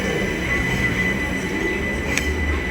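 A train rolls past close by at Willesden Junction on the West Coast Main Line, a continuous loud rumble of wheels on rails with a high, steady squeal running over it.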